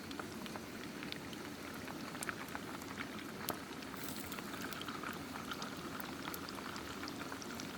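Oil bubbles in a pan as it heats, a dense, even crackle and fizz with scattered sharper pops, faint and steady throughout.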